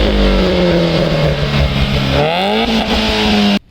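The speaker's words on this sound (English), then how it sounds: "So right now I'll be starting the vehicle and showing you the sound of the vehicle." A modified 2011 Mahindra Gypsy King 4x4 with an AutoMech header idles loud and close with a steady engine drone, then revs up briefly and cuts off abruptly at the end.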